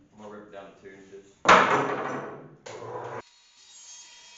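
A saw rips cedar deck boards lengthwise down to 2 inches, a loud burst of cutting noise lasting about a second and a half, then a shorter second pass, after quieter handling and talk beforehand.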